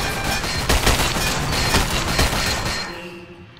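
Bursts of gunfire in the Roblox game Pressure, a dense, loud rattle of rapid shots lasting about three seconds before cutting off, with no talk over it.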